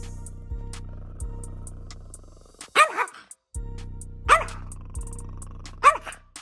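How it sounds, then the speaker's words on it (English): A small Yorkie puppy gives three sharp, close barks spaced a second or more apart, with brief growls between them. Low mechanical humming and thuds come before the first bark. "See how this pint-sized pup goes from cute to fierce, growling and barking to protect its territory."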